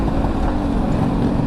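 A Yamaha RX King two-stroke motorcycle with its engine oversized to 125 cc runs steadily at close range, giving a continuous loud buzzing drone with no talk over it.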